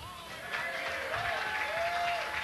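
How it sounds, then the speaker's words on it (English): A live radio show audience at the Elks Club applauds the staff, a short burst of moderate clapping with a voice speaking over it. "Round of applause for the fine staff at the Elks Club."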